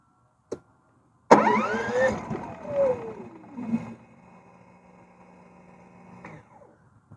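A Duromax XP9000iH dual fuel inverter generator running on propane cranks after a short click, catches with a rough, rising engine roar, then settles into a quieter steady idle hum.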